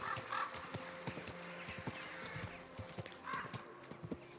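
Horse hooves clip-clopping in the medieval video game Kingdom Come: Deliverance II, a steady run of close, sharp knocks with a couple of brief animal calls over faint background ambience.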